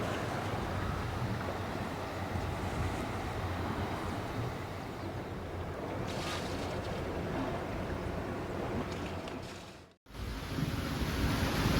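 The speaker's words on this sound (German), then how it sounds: "Jetzt haben wir einen fetten Schauer." A heavy rain shower on a sailboat in the Caribbean in 25-knot wind, a loud, continuous roaring wash of rain and gusting wind buffeting the microphone, with a brief dropout near the end before the roar returns.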